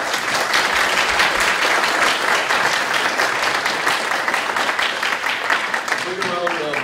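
An audience at a national student competition applauds the competitors with dense, steady clapping that holds at full strength for several seconds, and a voice rises briefly near the end.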